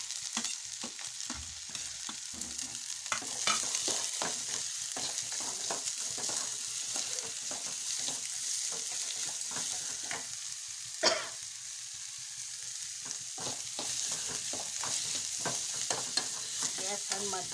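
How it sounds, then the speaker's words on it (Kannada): Green chilies and onions sizzling in hot oil in a pan, close and steady, while a spoon stirs with scattered scraping clicks and an occasional louder knock. "ಎಣ್ಣೆ ಕಾದೈತಿ, ಮೆಣಸಿನ್ಕಾಯಿ ಹಾಕ್ತೀನಿ"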